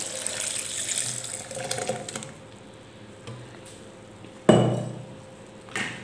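Water is poured into a blender of carrot milkshake ingredients, a splashy gush at the start, then quieter clinks and taps of a spoon or container, a sharp knock near the end.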